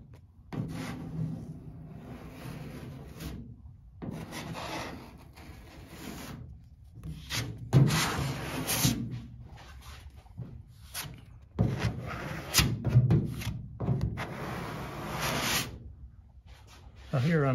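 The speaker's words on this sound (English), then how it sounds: "over this side I'm just filling in some scratches, so I apply a little more pressure on that when I do that" A spreader drags body filler across a Porsche 911 body panel in repeated scraping strokes, rough rubbing bursts separated by brief pauses, with someone talking over the work.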